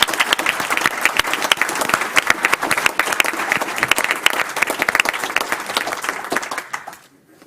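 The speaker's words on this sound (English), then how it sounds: "So thank you, and let's give Andre one more round of applause." Loud, sustained applause for an arts performer fills a school board meeting room, crisp individual claps forming a dense wash for about seven seconds before tapering off abruptly.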